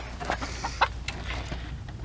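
Chickens on a metal grate over growing grass in November give a few faint, short clucks over a low steady hum, close by but quiet.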